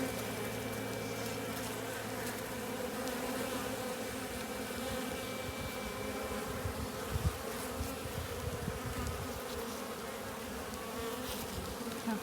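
Honeybees buzz at an open hive in February, a dense, steady, droning hum of many insects close by that carries on unbroken, with a few louder flickers of individual bees passing near.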